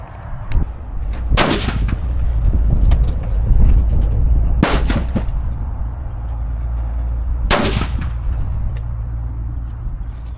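Three loud rifle shots ring out outdoors from a Bear Creek Arsenal 6mm ARC AR-15, sharp close cracks spaced a few seconds apart over steady wind-like rumble.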